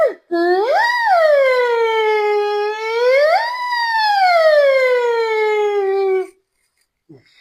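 A voice mimics a police siren with a long wavering wail that rises and falls twice, loud and close, then cuts off into near silence.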